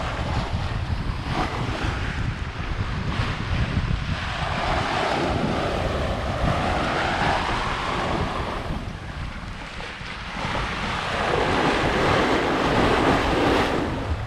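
Steady wind rushing past a sailboat on the open Pacific, with waves washing and surging against the hull in a continuous loud roar, swelling slightly toward the end.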